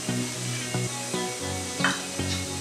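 A spoon scrapes and stirs through a sizzling oil-free rajma masala in a pan after half a cup of water is added, with steady frying and rhythmic strokes about every half second, close by.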